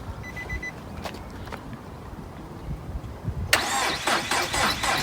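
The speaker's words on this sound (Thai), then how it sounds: "เราสิสตาร์ทรถ" A car that sat unused for a long time and would not start gets a jump start. Several quiet starter clicks and cranks come first, then the engine catches and runs with a loud, rough, revving idle.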